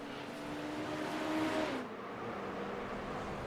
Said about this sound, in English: Oh, I've heard a car going off there.